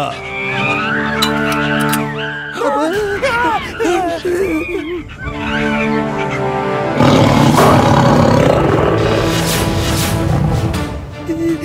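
A tiger's deep, drawn-out roars, loud and sustained, mixed with excited human voices and cries in a dramatized scene.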